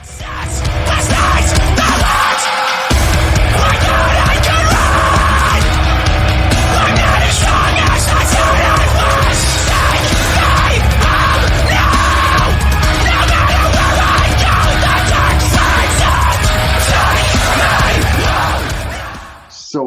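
Heavy, distorted guitars with 90s-style riffs and pounding drums drive a loud metalcore song by Knocked Loose, Take Me Home, while a harsh screamed vocal rides on top throughout, ending abruptly.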